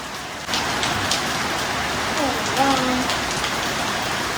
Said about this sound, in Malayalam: മഴ കണ്ടോ? മഴ കണ്ടോ?